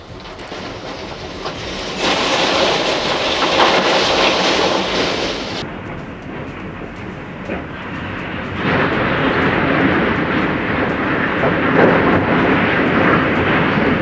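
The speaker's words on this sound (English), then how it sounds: "the sound of this building collapsing is truly deafening" An 80-foot grain elevator building collapsing during demolition produces a loud, sustained roaring rumble with crashing surges that swell and ease over several seconds, with no one speaking.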